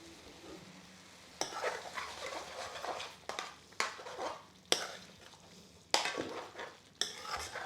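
Lamb curry being stirred in a pan with fresh coriander, a spoon scraping and clanking against the metal in repeated sharp strokes over a soft, steady sizzle, fairly quiet and close.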